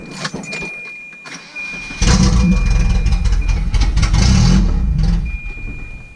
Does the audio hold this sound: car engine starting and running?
yes